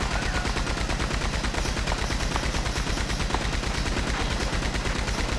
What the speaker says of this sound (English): You can shoot through the tents, but you can't shoot through any wood material. With a Maxim gun.